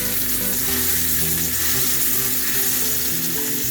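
A metal spatula cutting an omelette in a sizzling pan, a dense continuous sizzle with low rumbling scrapes and clanks of the spatula against the pan, close and steady throughout.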